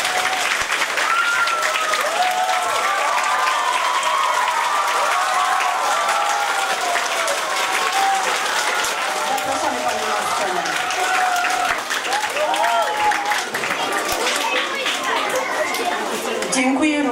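Audience applause at a poetic-musical theatre show in a community culture house, dense sustained clapping from a large crowd filling the whole stretch, with some chatter mixed in.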